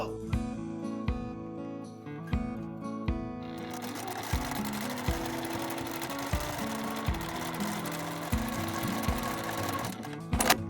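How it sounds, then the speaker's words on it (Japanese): Sewing machine stitching the side seams of a tote bag's pocket, starting with short separate bursts of needle clatter and then running in a sustained whir, close and clear with no talking. "内布をめくってポケットの両脇を縫います"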